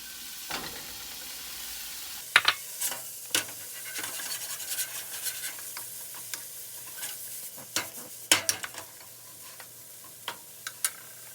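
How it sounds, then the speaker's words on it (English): Pancetta renders in extra virgin olive oil in a hot pan, a steady soft sizzle broken by sharp pops and spatters every second or so, close and moderately quiet, with no talk. "I am going to start rendering down my pancetta"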